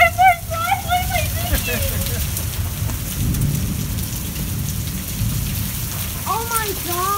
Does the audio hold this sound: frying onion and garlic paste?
no